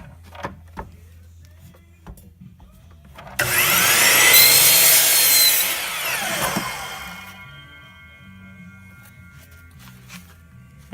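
A chop saw bites into wood to cut the heel off a wooden tenon, a loud whining cut lasting about four seconds before spinning down, with quiet shop noise around it.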